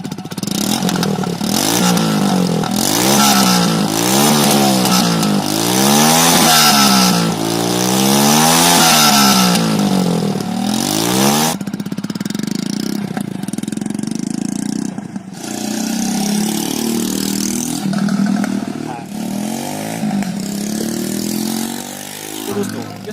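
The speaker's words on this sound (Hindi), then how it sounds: "तो दोस्तों हमारा एग्जॉस्ट तैयार हो चुका है और तो चलिए हम बाइक को स्टार्ट करके देख लेते हैं।" A Hero Splendor motorcycle with a modified exhaust fires up and idles close by, loud and throaty, with rhythmic revs that rise and fall before settling to a rumbling idle, and a faint voice underneath.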